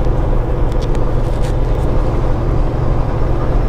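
A car on a 75 mph highway overtakes a big truck in the left lane, with loud, steady engine and road roar close by and a few faint higher ticks over the rumble.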